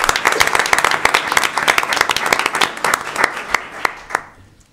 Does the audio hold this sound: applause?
yes